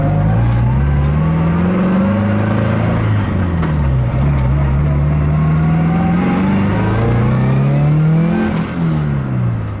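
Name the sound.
car engine revving on a test drive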